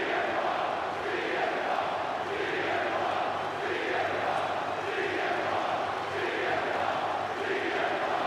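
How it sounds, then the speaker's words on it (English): A wrestling arena crowd in WWE 2K25 chants CM Punk's name, a rhythmic, pulsing mass of voices repeating steadily and evenly at moderate distance throughout. "crowd here tonight is chanting CM Punk"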